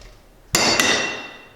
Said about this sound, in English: let me see if I can punch it in at all.